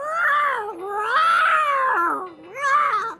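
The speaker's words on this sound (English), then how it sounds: "You scared the cat and it jumped off the roof!" A cat yowls on a rooftop in a radio drama, three drawn-out rising and falling wails with a strained, harmonic-rich tone, loud and close, with no talking.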